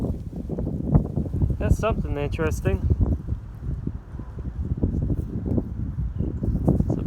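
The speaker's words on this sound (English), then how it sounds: "Sorry about the wind again." Gusty wind blows across a microphone outdoors in an old mill town, a constant low buffeting under a voice.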